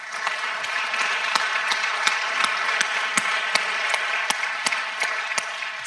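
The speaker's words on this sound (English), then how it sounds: "So big, big, big applause to your advisors." Applause for the advisors at an international case competition finals, with scattered, distinct hand claps ringing out over a steady bed of room clatter, moderately loud and without speech.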